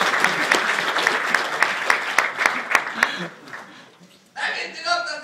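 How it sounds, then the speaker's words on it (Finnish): A crowd at a corporate show claps for volunteers, a lively burst with distinct sharp hand claps that tapers off, then a voice comes in over scattered chuckles. "Aivan aplodit"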